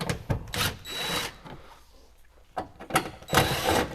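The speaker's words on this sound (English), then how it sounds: "Let's use the power tool." Power tool driving screws into the door panel of a 1972 Buick Centurion during a power window repair, with short bursts of whirring separated by a quiet pause in the middle, close and fairly loud.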